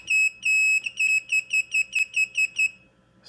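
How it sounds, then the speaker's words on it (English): Beeper on a T-Motor Falcon 15 drone emits a sharp, high-pitched electronic tone: two longer beeps followed by a quick run of about ten short, evenly spaced chirps, loud and close, ending in quiet. "we already talked about the beeper"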